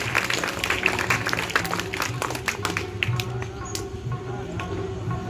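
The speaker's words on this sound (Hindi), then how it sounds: "एक बार जोरदार तालियां आप कर्पूरी ठाकुर जी के लिए लगाइए।" Audience applause at an outdoor death-anniversary commemoration for Karpoori Thakur in Malinagar, Kalyanpur: a crowd claps in scattered, sharp taps that gradually thin out, with some voices underneath.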